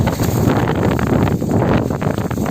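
Strong wind buffets outdoors on a day of kite flying, a loud continuous roar with gusty rumble and rustle filling the whole stretch, no voices.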